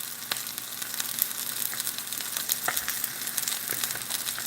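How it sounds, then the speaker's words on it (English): Butter sizzling and bubbling in a frying pan, a dense, steady hiss dotted with small pops and crackles, close up and alone, with no speech. "And that's going to start to go gurgle, bubble, like so."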